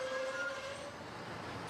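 Arago freight train arriving at Barcelona's industrial port after a long journey from Antwerp, heard as a brief tonal horn or whistle fading into a continuous rumbling rail noise at moderate distance.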